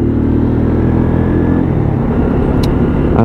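A WK Scrambler 125cc motorcycle pulls away, its loud close engine droning steadily and then shifting pitch as it changes gear and rides off, with no talking.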